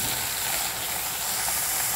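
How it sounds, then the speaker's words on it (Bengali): Eggplant pieces fry in hot oil in a pan, a dense continuous sizzle and hiss, close and steady throughout with no voices. "বেগুনগুলো ভালো করে ভেজে নেব।"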